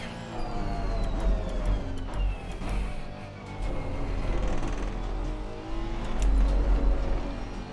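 Racing cars in a sim racing game at Barcelona, a Mercedes and a BMW close ahead, with steady engine drone and shifting tonal whine sustained throughout, swelling in loudness near the end.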